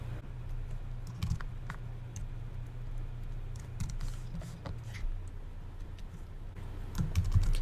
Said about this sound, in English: Then I start typing in my numbers.